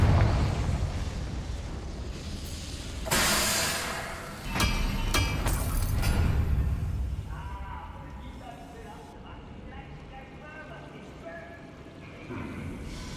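A Confringo fire spell bursts in the video game Hogwarts Legacy, a sudden booming blast followed by crackling impacts and a fading rumble, with game sounds and a brief voice around it.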